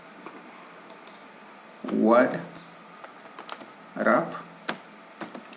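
Scattered light key clicks from typing on a computer keyboard while setting up the Visual Studio Code editor, with two short bursts of speech in between.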